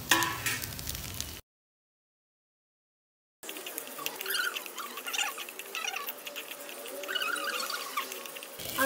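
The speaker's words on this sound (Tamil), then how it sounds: "எடுத்து வச்ச பூண்டு இஞ்சி கருவேப்பிலை எல்லாத்தையும் சேர்த்து லைட்டாக வதக்கிக்கோங்க" Garlic, ginger, curry leaves and coconut sautéing in sesame oil for a village mutton curry, a soft patter and crackle with scraping stirs, broken by a two-second silent gap.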